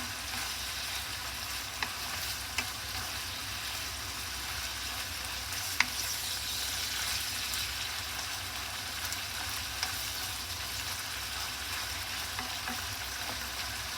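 Shoga yaki, ginger pork with a bell pepper cut into quarters, frying and being stirred in a pan, a steady close sizzle running throughout with a few faint clinks from the utensil.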